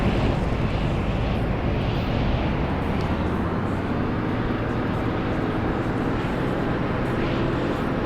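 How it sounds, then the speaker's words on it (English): Aircraft engine in the naval strategy game Carrier Command 2 spinning up to a constant loud roar, a dense rumbling drone that holds steady throughout with no talk. "Let's start the engine."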